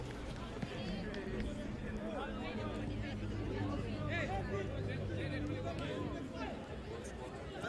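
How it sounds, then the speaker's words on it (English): Supporters of the Blue Ice team cheer at a Caribbean rugby sevens match, a steady crowd babble with scattered shouts from nearby fans and people chatting throughout. "As you can hear, the Blue Ice team cheering"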